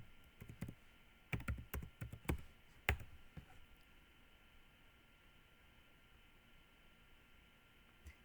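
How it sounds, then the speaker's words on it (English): Keys click on a computer keyboard in a quick, uneven burst of faint, close taps, then go quiet for the last several seconds. "This time I'm typing an infographic."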